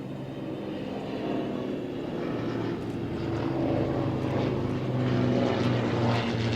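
A Hawker Hind biplane at an air display, its propeller engine droning steadily at a distance and swelling slightly louder toward the end, with no talk over it.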